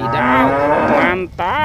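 A toy cow lets out a long, loud, drawn-out moo that fills most of the moment, with a short break before a second moo begins. A voice speaks briefly.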